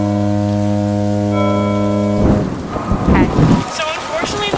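Strong wind in a storm whips across the harbor, a steady roaring rush that builds into louder gusty buffeting, with tonal hum underneath in the first half.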